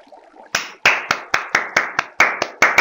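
Sharp hand claps in a steady series, about ten in a row, loud and close, after a brief soft murmur at the start.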